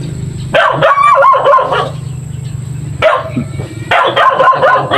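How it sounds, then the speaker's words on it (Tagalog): A dog barks outdoors in repeated bursts, with a cluster of loud, close barks followed by two more short volleys separated by brief pauses. "Aso."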